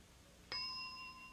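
A single bright bell ding rings out on a game show to start a turn and sustains with a clear ringing tone, heard alone after a quiet moment.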